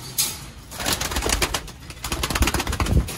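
Rooftop pigeons coo close by in soft, repeated throaty calls, joined by rustling and a few wing flaps, with several birds overlapping.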